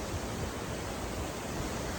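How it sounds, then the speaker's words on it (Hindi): Mountain waterfall heard as a dense, steady rushing roar of falling water, loud and unbroken throughout, with no talk. "देखियो पाछू झरना देखा रहा है"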